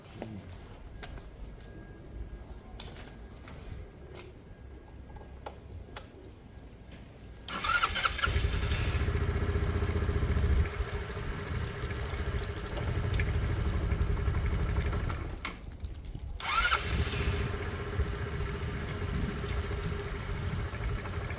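A motorcycle engine cranks on the starter button and fires up, settling into a steady, fairly loud idle that runs on, with a brief dip in the middle.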